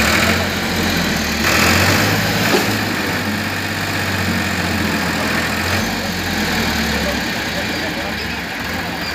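A tractor engine runs steadily throughout, a constant low rumbling idle with slight shifts in tone, close by, while people talk over it.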